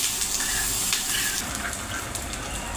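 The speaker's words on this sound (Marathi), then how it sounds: "कांदा चांगला भाजून घ्यायचा" Chopped onion frying in a pan for a Marathi amti and vegetable dish, a steady close sizzle with faint stirring scrapes and no voices.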